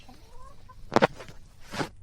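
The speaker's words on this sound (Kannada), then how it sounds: "ರಂಗ ಇದ್ ನಿಮ್ದೆ ಕೋಳಿ ಯಾಕೆ ಇಲ್ಲಿ ಕುಕ್ಕಣೈತಿ" A hen clucks close by in two short, sharp bursts separated by a pause, with faint background noise between them.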